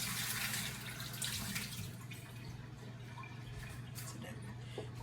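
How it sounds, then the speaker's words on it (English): Water swirled around inside a hollowed-out pepper, a soft wet sloshing and dripping close by, fairly quiet and steady for several seconds. "Then will put some water on the inside of it, swirl it around, and get the remainder out."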